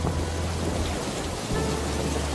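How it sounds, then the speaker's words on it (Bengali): Cartoon thunderstorm effect with heavy downpour and wind, a dense steady roar of rain with deep rumbling thunder underneath, loud and continuous. "আকাশে জোরে বিদ্যুৎ চমকাতে লাগলো, মুষলধারে বৃষ্টি শুরু হলো, জোরে হাওয়া বইতে শুরু করলো।"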